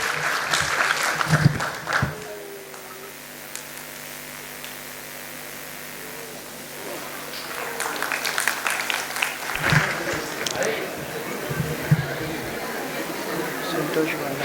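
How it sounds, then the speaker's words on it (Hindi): Audience applause at a school annual function, rising in two bursts around brief speech, with a steady mains hum underneath and crowd noise between. "एक बार जोरदार तालियां मनोहर मेहरा सर के लिए।"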